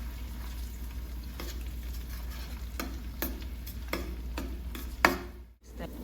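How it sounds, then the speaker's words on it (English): Canned tomatoes frying in a pan for plant-based jollof rice, a steady low sizzle with scattered scraping taps of a utensil stirring, close and moderately quiet, ending with a sharper knock. "Right now this has been frying for a little bit."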